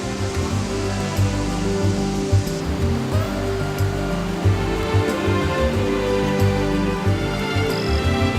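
The Casororo waterfalls near the village of Valencia pour continuously in a dense forest, a steady broadband rushing roar without pauses or voices.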